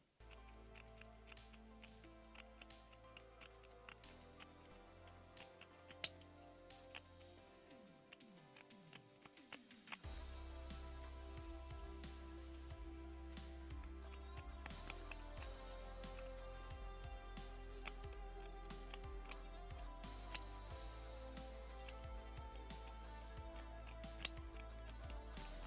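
Scissors snip through the seam allowance on lace Brazilian panties, with light ticking cuts scattered across a steady room hum and background noise, and no talk.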